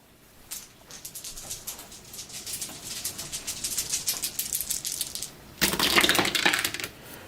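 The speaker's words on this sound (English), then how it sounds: "so he gets to roll 3 dice" Three dice rolled in the Valkyrie: A Black Orchestra board game: a close, clattering rattle of dice tumbling on a surface, building up and ending in a louder burst of clicks.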